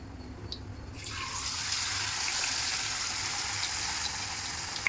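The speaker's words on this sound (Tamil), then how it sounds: "எண்ணெய் சூடாகிடுச்சு. எண்ணெயில் போட்டுடலாம்." Ragi adai dough, a finger millet flatbread patted thin, drops into hot oil, and a steady close-up frying sizzle swells after the first second and hisses on continuously with no talk.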